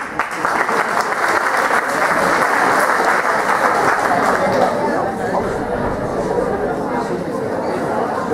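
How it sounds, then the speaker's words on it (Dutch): An audience applauds after a song at a school performance, a dense sustained wash of clapping close and loud with crowd chatter mixed in, running steadily throughout. "Applaus."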